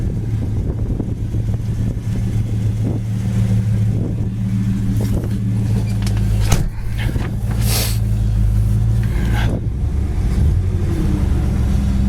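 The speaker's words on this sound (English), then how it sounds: "As far as the 354 barrel, it really sounds nice, runs good with that dual exhaust." A 1967 Oldsmobile Cutlass convertible with a 354 engine and dual exhaust runs with a steady, deep rumble, heard close by, along with a few scattered clicks and knocks.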